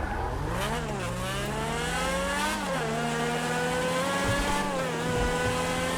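A car driven in GTA 5 revs and shifts continuously, its engine pitch climbing and dropping with gear changes, loud and close throughout with no other sounds over it.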